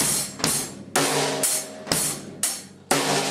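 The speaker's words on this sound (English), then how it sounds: "So that's pretty much a very basic rock beat" A basic rock beat plays on a drum kit, bass drum alternating with snare in a steady pattern of about seven loud, close hits with ringing cymbal wash between them.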